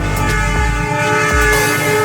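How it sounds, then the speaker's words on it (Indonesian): A train passes close by on a nearby line, a loud steady rumble of cars with tonal whine and rhythmic clacks of wheels over rail joints, heard alone with no talk. "Wow, ada kereta."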